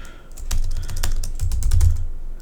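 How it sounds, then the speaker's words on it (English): Rapid typing on a computer keyboard, a steady run of close, crisp key clicks with a few heavier thumps, no voices. "It's a hard word to type."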